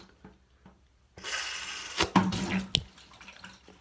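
Toilet bowl water is drawn through a hose by siphon, gurgling and splashing in a rushing burst with a few bubbly pops, fairly close and loud after a quiet start.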